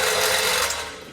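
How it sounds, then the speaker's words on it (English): A reciprocating saw cuts plastic beneath a shield on a base plate install, making a loud, continuous, rasping buzz that fades slightly toward the end. "We're going to use our reciprocating blade to do this."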